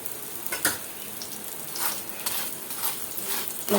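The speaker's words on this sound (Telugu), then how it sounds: "ఇలా ఆయిల్ వేసుకుందామండి కొంచెం ఆయిల్ వేసుకుంటే మళ్ళీ తిప్పి" Paratha frying in oil on a pan, a steady close sizzle with crackling bursts and occasional scraping of a utensil against the pan.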